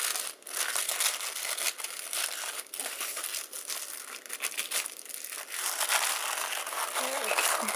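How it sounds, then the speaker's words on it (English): Paper or plastic crinkles and crunches steadily as the edges of a small happy mail bag are folded in, close and fairly quiet, continuing throughout. "I'm going to fold in the edges to make it look a little bit neater."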